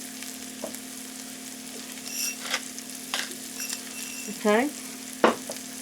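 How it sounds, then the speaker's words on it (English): Mushrooms sauteing in a pan at a cabin kitchen, a quiet low sizzle with a few utensil clinks and scrapes, while a person briefly speaks. "Just to saute them."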